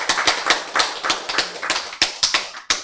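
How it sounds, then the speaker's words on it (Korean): Audience at a health lecture breaks into clapping, a short burst of loud, fairly rhythmic hand claps with no talking. "저렇게 자진해서 박수치는 모습 오늘 처음 봤어"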